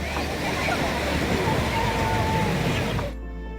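Sea waves rolling and sloshing onto the shore at Puri beach, a steady broad wash of surf up close for about three seconds before cutting off abruptly, with faint voices mixed in.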